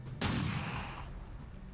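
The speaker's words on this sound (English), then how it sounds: "Let's shoot this guy, make him weak." A single heavy gunshot in the XCOM 2 video game, a sharp loud blast with a decaying boom tail, heard alone.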